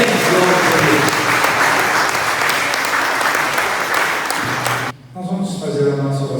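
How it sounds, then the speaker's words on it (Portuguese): Church congregation claps loudly and steadily for about five seconds, the dense applause cutting off abruptly as a voice begins speaking. "Vamos dar salve de palmas a Jesus?"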